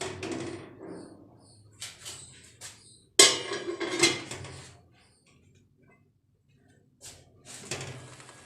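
Carrot halwa cooking down in milk in a covered pot, stirred with a utensil: intermittent close metallic clinks, scrapes and lid knocks come in short bursts, with a quiet stretch in between.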